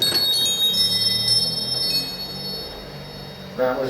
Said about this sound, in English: So listen to this wind chime here.